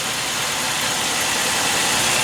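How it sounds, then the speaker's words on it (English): A Chevy Malibu engine idles with a steady, low rumble, continuous, close and even, with a constant broadband hum and no voices. "The first thing you want to do is start your engine"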